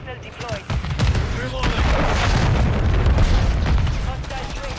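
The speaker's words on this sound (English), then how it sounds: "Cruise missile deployed." Cruise missile blast in Call of Duty, a heavy booming roar that fills the whole clip with dense, sustained rumble and crackling gunfire-like bursts layered through it, loud and close.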